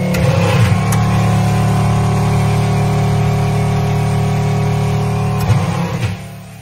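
A 12V Remco pump rated at 7 gallons per minute and 100 PSI runs continuously while spraying, giving a loud, steady motor drone with a hissing wash that holds throughout and drops away at the end.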